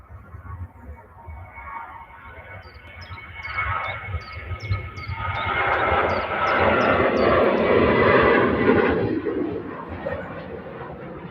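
Airliner engines at Manchester Airport, a low jet rumble that builds from moderate to loud and broad over several seconds, with faint birdsong chirping above it early on.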